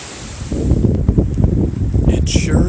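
Strong wind on an Appalachian Trail mountaintop roars and buffets the microphone continuously, a loud, rumbling gusty rush with no other clear sounds.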